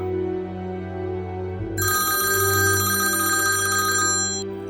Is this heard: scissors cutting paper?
no